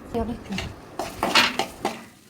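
Green chillies sautéed in a pan for mushroom biryani: a few sharp metallic clanks and scrapes of a spoon against the pan, close up, with a voice speaking over them.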